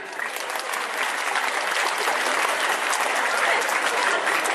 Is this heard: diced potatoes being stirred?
no